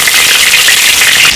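Ginger and garlic sizzling in hot rapeseed oil in a home kitchen, a bright, loud, steady crackle with dense popping and no pauses.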